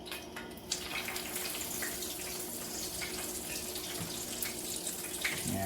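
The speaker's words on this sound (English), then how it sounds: "And put it in the oil." Pork schnitzel coated in crushed pork rinds fries in oil in a skillet, a steady, fairly quiet hiss and sizzle that runs throughout without a pause or any voices.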